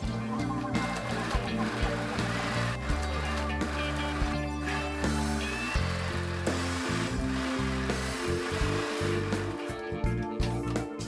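A sewing machine runs a zigzag stitch along a fabric edge as an overlock-free seam finish, its motor whirring steadily and loudly with a fast rhythmic mechanical chatter throughout.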